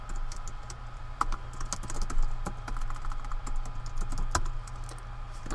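Close, quick typing on a computer keyboard in a cramped closet, irregular bursts of sharp key clicks over a low steady hum, with no talk.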